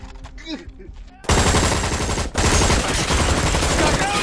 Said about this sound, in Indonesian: Dia sangat marah melihat Namsan dan mulai menembak.